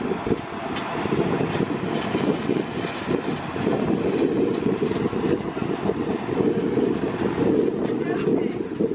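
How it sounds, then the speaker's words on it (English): Steady rumbling of a park tram at Disney's Animal Kingdom rolling along with wind noise, continuous and fairly loud, with muffled voices underneath. "Please wait until the train comes to a full stop before disembarking"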